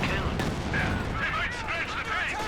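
Katyusha rocket barrage in the Company of Heroes 2 strategy game, heard as a dense rumbling roar of launches and explosions with shrill whistling streaks, continuous and loud throughout.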